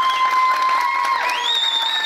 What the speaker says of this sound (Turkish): Alkışlar gecemizin rengi efendim.